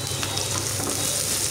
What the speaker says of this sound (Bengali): একটু নাড়াচাড়া করে দিচ্ছি। পেঁয়াজগুলো আমি একদম লাল লাল করে ভাজবো না, হালকা একটু ভেজে নিব।